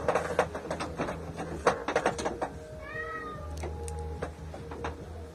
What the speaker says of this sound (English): These two cats keep meowing and coming in and out of my room.